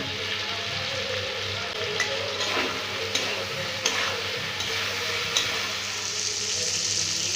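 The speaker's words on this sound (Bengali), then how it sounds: "ভালো করে কষিয়ে নিব" Pointed gourd curry with kasuri methi sautéing in a pan, a steady close sizzle with occasional soft knocks and scrapes of a stirring spoon, even and moderate in level, no talking.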